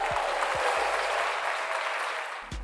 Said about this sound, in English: I think we deserve another round of applause.